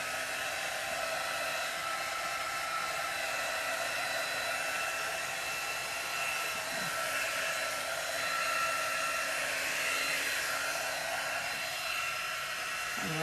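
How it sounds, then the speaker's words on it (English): A heat gun dries wet paint on a lighthouse model with a constant, fairly quiet hair-dryer-like whoosh. The airflow hiss stays even and uninterrupted from start to finish. "heat guns aren't just for resin. It's for people like me that want to finish working on a lighthouse and it's still wet"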